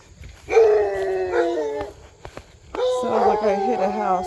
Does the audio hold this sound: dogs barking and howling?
yes